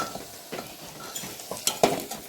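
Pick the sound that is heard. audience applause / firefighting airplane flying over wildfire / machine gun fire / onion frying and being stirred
onion frying and being stirred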